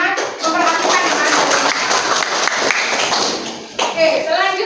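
Classroom children clap in quick, scattered rhythm for a classmate, mixed with voices chattering over the applause.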